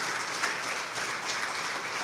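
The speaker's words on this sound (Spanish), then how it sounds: "dele un aplauso a Cristo Jesús" A church congregation applauds during a Spanish-language sermon: a steady, fairly quiet wash of many hands clapping together, even and continuous throughout with no voices on top.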